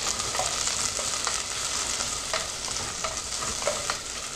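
Onion sautés in hot oil in a pan for a creamy tuna mushroom dish, with a steady, close sizzle and occasional scraping stirs, no voices.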